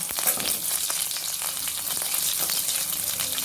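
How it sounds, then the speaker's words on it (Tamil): Chopped onion sizzles steadily in hot oil in a pan while an omavalli leaf chutney is being cooked, a bright continuous frying crackle close up, with no talking. "இப்போ வெங்காயம் சேர்த்துக்கிறோம்"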